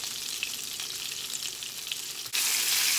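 Sopes frying in hot oil in a large pan, a steady bright sizzle throughout that swells louder and denser near the end, close and continuous with no talk.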